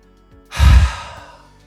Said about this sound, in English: First, I want you to breathe out and exhale like this.